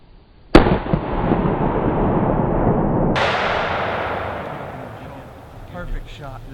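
A single loud rifle shot rings out in the woods while hunting a white-tailed buck, with a sharp crack followed by a long rolling echo and a second burst of reverberation that fades slowly; a faint voice follows.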